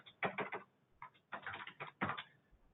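Keys clatter on a computer keyboard in short bursts of quick taps separated by brief pauses, close and fairly quiet.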